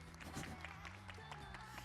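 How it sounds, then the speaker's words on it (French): A game show audience at a Japan Expo event in Marseille applauds a contestant, giving faint, dense clapping and crowd noise mixed with speech. "On l'applaudit bien fort, Yuke, s'il vous plaît."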